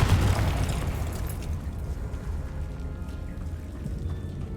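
A Confringo fire spell bursts in Hogwarts Legacy with a loud, close blast at the start, then a crackling, rain-like hiss that fades slowly as debris settles.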